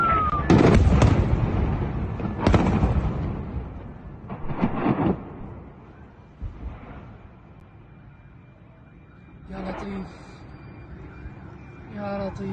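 Heavy explosions from Israeli airstrikes on Syrian weapons depots and chemical weapons sites, several loud booming blasts in the first seconds fading to rumbling, with fainter distant thuds and a voice near the end.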